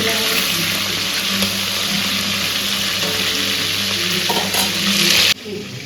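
Meat fries in a pan for home-made biryani, a loud continuous sizzle and hiss held close throughout, cutting off sharply near the end.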